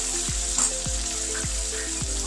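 Turmeric and other ground spices sizzle in hot oil for a halwai-style tinda curry, a steady close frying crackle with a few soft stirring scrapes and no talking.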